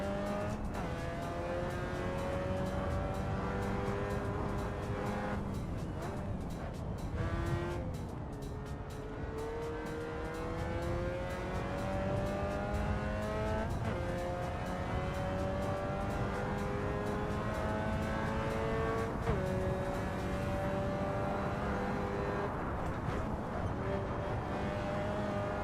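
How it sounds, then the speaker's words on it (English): A modded race car in a racing video game, its engine revving loud and steady with rising pitch sweeps through each gear shift over about twenty-five seconds, with no talking. "This sounds really good as well, this car."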